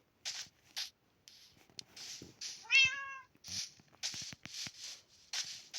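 A short cat meow with a rising and falling pitch sweep, heard once in a video game amid clicky footsteps and other bursts of game sound.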